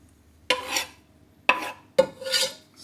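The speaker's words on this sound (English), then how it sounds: "Stir that all together." Garlic and mustard being stirred into melted butter in a pan for mac and cheese, heard as three short scraping strokes of a utensil against the pan, close and fairly quiet, with no talking.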